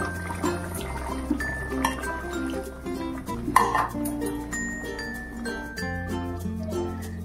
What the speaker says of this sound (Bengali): দেখো এবার প্রায় 6-7 মিনিট পর আমি ঢাকাটাকে খুলছি